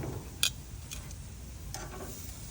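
Carne asada searing in a pan, a low steady sizzle broken by a sharp clack and a couple of lighter knocks as the meat is turned over.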